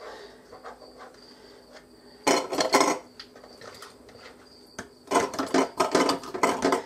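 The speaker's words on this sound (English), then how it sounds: "I'm going to start filling my jars" Beet slices go into glass canning jars with clinks and rattles: sparse light taps, then two dense bursts of glassy clatter, close by and without speech.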